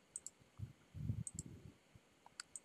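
Left mouse button clicked repeatedly while digitizing a logo in Inkscape with Inkstitch: sharp, quiet clicks in a loose irregular rhythm, heard alone over faint low desk noise.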